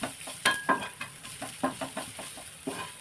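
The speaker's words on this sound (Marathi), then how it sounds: "आता यामध्ये घालायचं आहे लसूण, आलं, मिरची. थोडं तेलामध्ये परतून घ्यायचं व्यवस्थित." Garlic, ginger and green chili stirred in a little hot oil in a pan, with soft sizzling and several distinct scraping stir strokes spaced through a few seconds, close and fairly quiet.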